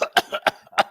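A person coughs four times in quick succession, short, close and fairly loud bursts with brief gaps between them.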